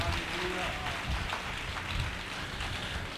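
A congregation at an annual church conference breaks into dense, sustained applause, a loud continuous wash of clapping that holds steady throughout, with voices mixed in.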